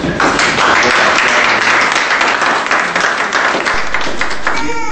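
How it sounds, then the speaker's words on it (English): A workshop audience of agriculture and livestock representatives in Cameroon applauds, with dense, loud clapping that runs steadily for about five seconds and mixes with crowd noise. "I want to first of all ask us to give her another round of applause."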